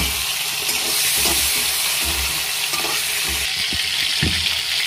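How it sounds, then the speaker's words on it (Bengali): Prawns frying in a pan for a prawn curry with ol stalks, a loud, dense, close sizzle with thumps and scrapes of stirring throughout, with no speech. "এবার ভাজা হয়ে গেছে, এবার মাছটাকে আমি তুলে নিচ্ছি"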